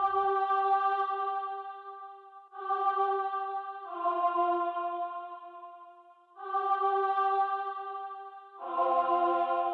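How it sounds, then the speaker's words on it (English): Synthetic choir pad from the beat sings a simple slow melody of long held, airy vowel notes with echoing tails, four sustained tones at moderate loudness, ending as another sound enters. "the fourth and final melody of the beat, which is my favorite part of the beat, which is actually this choir"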